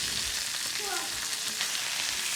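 A New York strip steak fries in a pan with garlic, onion, thyme and butter, giving a steady, close, loud sizzle and crackle with no talk.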